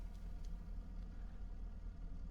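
A tractor engine in Farming Simulator 25 idles at a low, steady rumble, quiet and even, with no other sounds over it.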